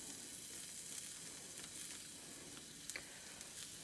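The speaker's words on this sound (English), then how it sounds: "So I'm just adding my garlic." Garlic sizzles softly in a hot cast iron pan, a faint, steady frying hiss with a few light stirring clicks near the end.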